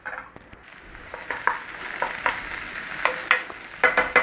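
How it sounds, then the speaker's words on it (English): Chopped onions sauté in hot oil in a pan, giving a soft, continuous sizzle. A spoon scrapes and stirs through it in repeated close, sharp strokes, and no one speaks. "chop some onions, get them in a pan with some oil and start sauteing them down"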